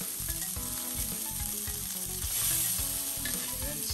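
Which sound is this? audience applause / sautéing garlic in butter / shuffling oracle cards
sautéing garlic in butter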